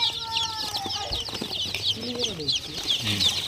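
Many day-old country chicken chicks, about a hundred, cheep in a constant high-pitched chorus, with clucking hens and someone speaking underneath.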